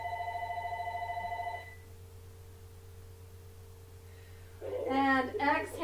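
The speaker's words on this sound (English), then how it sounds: "So sorry that the phone's going to ring and you're going to get the answering machine." A home landline telephone rings with an electronic tone for about a second and a half, fairly loud, then cuts off; a faint hum continues before a voice starts speaking near the end.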